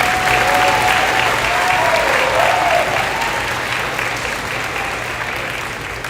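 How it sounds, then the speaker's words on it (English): At a 12th grade graduation ceremony for the Class of 2022, the audience gives the graduating class a full round of applause, thick and continuous, fading slightly toward the end. "let's give them a round of applause"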